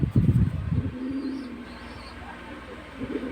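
A pigeon coos in low, repeated bursts close by while it is held and given eye drops for watery or inflamed eyes; a handler's hushed movements and faint background noise follow.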